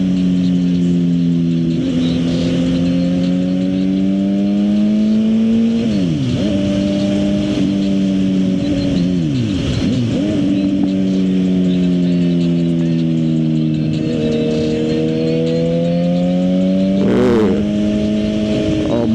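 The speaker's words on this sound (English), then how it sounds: "Hit the gas a little too much in the middle of that curve." Suzuki GSX-R750 motorcycle accelerating through a curve, a loud close engine drone whose pitch rises and dips with several throttle changes, heard from the rider's position under steady wind noise.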